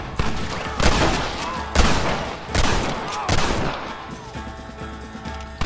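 Gunfights in the video game Red Dead Redemption crack out as a series of loud, close gunshots in irregular bursts, each with a rumbling tail, and a shouted voice is faintly heard among them.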